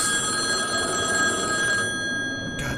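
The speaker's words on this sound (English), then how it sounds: "Please stop the phone!" A telephone rings in the Boogeyman video game, a loud steady electronic bell with sustained tones that cuts off near the end, followed by a brief burst.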